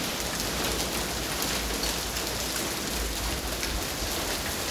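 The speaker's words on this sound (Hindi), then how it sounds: "तेज हवाओं के साथ झमाझम बारिश हुई" Heavy downpour with strong wind and small hailstones in Uttar Pradesh, a steady loud roar of rain hitting surfaces throughout with no break, no voices.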